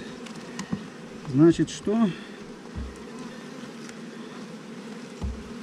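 Honey bees buzz on a hive frame in a lying hive, a steady low drone with a few louder close passes, under brief quiet talk.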